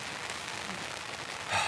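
Rain falling steadily around a campsite, a soft, diffuse hiss of drops on surfaces, faint and even throughout, with a brief louder patter near the end.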